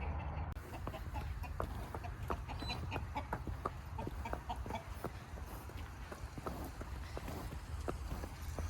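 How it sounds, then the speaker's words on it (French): Hens clucking close by on a farm path during an outdoor walk, soft repeated clucks and scratching over a steady low outdoor rumble, fairly faint. "Il y a des poules là, juste là."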